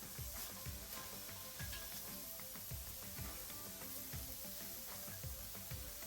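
Vegetables sweating in a hot pan as the base for a pork loin roast, a quiet, steady sizzle with faint scraping and stirring ticks repeating throughout.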